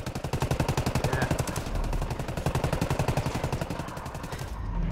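Sustained automatic gunfire in Tom Clancy's Ghost Recon Wildlands at a desert outpost, loud rapid bursts with a brief lull near the middle before firing resumes in a steady rattling rhythm.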